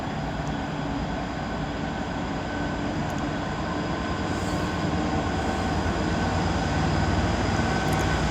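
A Class 220 CrossCountry train departs Coventry station on the West Coast Main Line, producing a loud, steady engine and rail rumble that holds throughout with faint high squeals.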